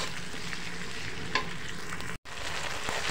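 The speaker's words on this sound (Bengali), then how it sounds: "আদা রসুন বাটাগুলোকে পেঁয়াজের সাথে নেড়ে চেড়ে ভেজে একটু কষিয়ে নিয়েছি।" Ginger-garlic paste frying with onions in a pan for a potato and fish curry, a steady close sizzle with faint stirring scrapes and one brief dropout near the end.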